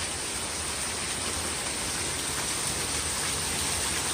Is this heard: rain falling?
yes